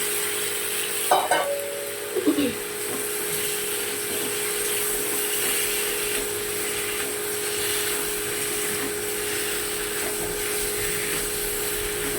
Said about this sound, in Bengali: ডিম আলুটা দিয়ে দিচ্ছি।